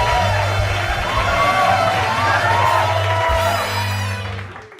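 Comedy show audience whooping, cheering and clapping in a loud sustained burst over thumping background music, dropping away at the end.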